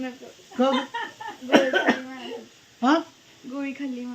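A few sharp coughs in quick bursts, close by, mixed in with a person talking.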